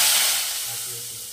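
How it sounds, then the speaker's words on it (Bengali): Hot asafoetida tempering poured into a kadai of singi fish curry gives a loud, bright hissing sizzle that bursts at once and then slowly settles over about a second. "এবারে নিয়ে আসছি কড়াইটা, এই ফোড়নটা আমি দিয়ে দেবো এর মধ্যে"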